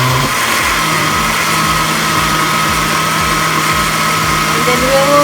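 An electric blender whirring as it blends mango for homemade ice cream, a loud, steady motor drone that holds at one level without a break; a voice talks over it.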